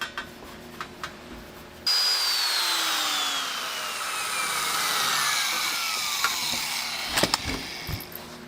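A power drill whines into a bore while installing a fender eliminator on a first-generation Suzuki SV, its motor pitch sliding steadily downward as it loads up, then stops, followed by a few clatters.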